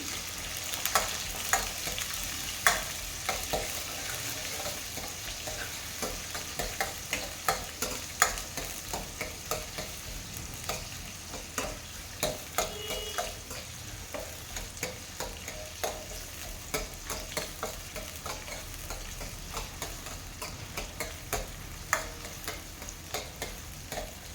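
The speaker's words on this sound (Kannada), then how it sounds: "ಚೆನ್ನಾಗಿ ಫ್ರೈ ಮಾಡಿ." Onions frying in a pan for fish curry, a continuous close sizzle punctuated by regular spatula stirs and scrapes throughout, with no talk.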